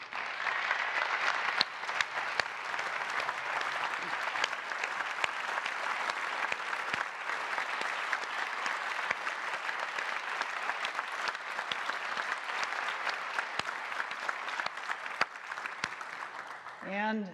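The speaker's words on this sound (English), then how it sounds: "if you guys could just stand up so we could give you a round of applause." A large audience applauds at Apple's 2011 iPad 2 launch event, a long, sustained wash of clapping that stays loud and even for many seconds, then tapers off near the end.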